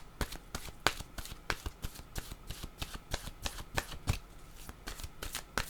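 A deck of oracle cards is shuffled by hand in quick, rapid riffles, giving a steady run of crisp, close flicks and slaps that carries on without pause.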